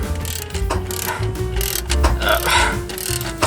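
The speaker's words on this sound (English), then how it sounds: "got my jack ready, and I'm just gonna have to raise it here" A trailer jack being cranked up on a sloped incline gives loud, continuous ratcheting, with fast metallic pawl clicks and grinding gear whirr running close and unbroken throughout.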